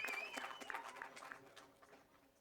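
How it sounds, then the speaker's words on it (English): Faint applause from a crowd at a SuperM motorcycle race podium at Durban Raceway, scattered claps fading away over a couple of seconds, distant and quiet. "let's make a big round of applause for your Super M podium race 1."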